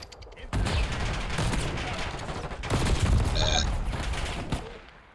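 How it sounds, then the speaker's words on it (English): Gunfire in an online shooter game, where a shotgun is fired, rapid loud bursts of shots and booms pile up in a dense barrage lasting several seconds, close and harsh, with no speech. "I get 2 hit markers with a shotgun."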